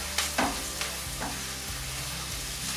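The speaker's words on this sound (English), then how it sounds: "we toast it carefully, just for a minute or 2, turning it over in the olive oil" Rice grains stirred in hot olive oil hiss and crackle softly while toasting, with a few scraping strokes near the start, close and steady.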